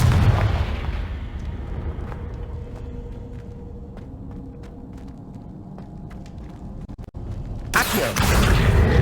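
Confringo blasting curse explosion in the Hogwarts Legacy video game: a loud booming burst at the start fading into a low rumble with faint crackles, then a second sharp, loud blast near the end.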